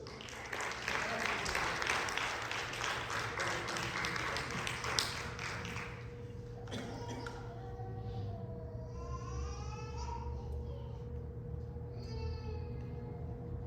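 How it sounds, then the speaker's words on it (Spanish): Congregation applause during a Spanish-language church service: dense, steady clapping from many hands for about six seconds, then fading into a sustained tone and a voice. "Den un aplauso al Señor"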